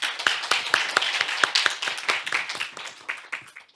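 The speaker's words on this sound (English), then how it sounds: "Let us give him a big round of applause" An audience at an international care conference opening session claps for a professor coming to the stage. The hand claps are crisp and distinct, building quickly and then tapering off over a few seconds.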